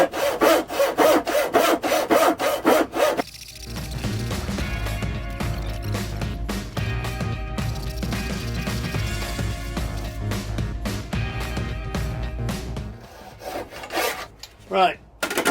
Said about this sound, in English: that's the faces of the tenons cut